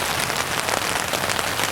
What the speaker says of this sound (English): listening to the rain on this the tarp